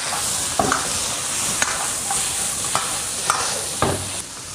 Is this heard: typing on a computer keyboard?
no